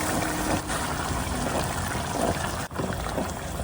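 Thick arrabbiata sauce pours steadily into a pot of simmering pasta Bolognese, a continuous close, loud wet glugging and splattering with one brief break near the end.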